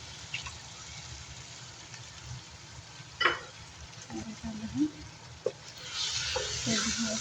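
Tomatoes sauté in a pan for a chicken stew, giving a quiet, steady sizzle with occasional stirring scrapes and clinks of a utensil against the pan.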